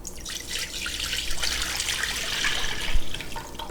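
Whey pours back into a pot for homemade mozzarella, a steady close splashing and trickling stream of liquid lasting several seconds, alone with no talk.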